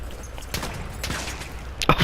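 Shotgun fire in the video game Battlefield 1 gives three or four loud, close blasts spaced about half a second apart, with the last shot sharpest.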